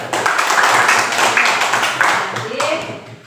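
A classroom of students clapping together after a lesson on respiratory disorders, a dense steady patter of many hands with some voices mixed in.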